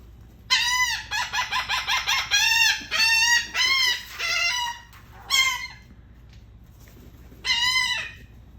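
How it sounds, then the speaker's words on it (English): A noisy bird calls loudly and close by in a run of harsh, ringing cries. Several quick calls come in a row, then two louder, drawn-out calls after short pauses. "Noisy bird."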